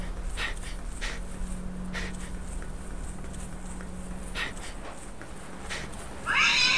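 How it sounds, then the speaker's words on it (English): Cat meowing in the horror video game Caretaker, several faint drawn-out meows spaced over a low steady hum and ambient noise, ending with a louder harsh burst. "Oh my god. Cat."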